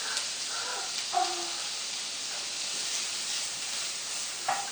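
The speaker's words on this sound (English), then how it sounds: "Put some butter inside now. We saute onion and garlic." Onion and garlic sauté in butter in a pan, giving a steady, fairly soft sizzling hiss with a few faint stirring clinks.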